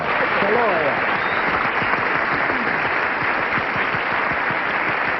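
Brisk studio audience applause on a 1977 CBS daytime game show, continuous even clapping throughout with a voice talking over it early on.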